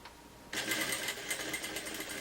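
A sewing machine runs a short backstitch on fabric beside an elastic edge, a quiet hum then a sudden fast, steady stitching whir for about two seconds.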